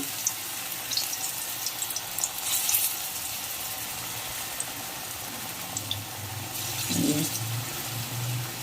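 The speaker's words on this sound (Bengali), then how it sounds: "বড়াগুলো একটু লাল লাল করে আমি ভেজে নেব।" Fritters frying in a shallow layer of oil give a steady soft sizzle with faint crackles. A brief clink of a utensil comes near the end.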